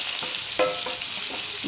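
Chicken pieces frying for biryani in hot oil, a steady close sizzle with faint stirring clicks, continuous and without talk.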